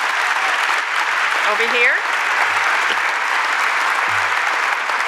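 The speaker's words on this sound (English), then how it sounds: "give them a moment of applause" An audience at a teacher of the year awards evening gives a brief round of applause for the staff who organized the event, steady clapping with a voice calling out briefly over it.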